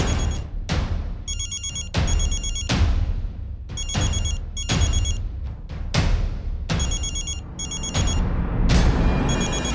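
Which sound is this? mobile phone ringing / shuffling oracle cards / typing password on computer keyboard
mobile phone ringing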